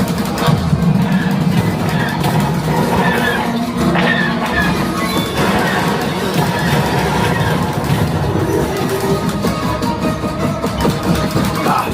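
A loud, continuous rumbling roar with clattering and mechanical noise, like a train racing along, sustained throughout without pause, on the Millennium Falcon: Smugglers Run simulator ride at Disneyland.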